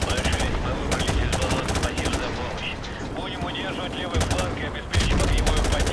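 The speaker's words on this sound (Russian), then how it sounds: "Нормально они по меня шмаляют" Rapid enemy gunfire in Call of Duty: Modern Warfare Remastered, with dense bursts of automatic shots crackling close and loud across the whole stretch and a few short pauses between volleys.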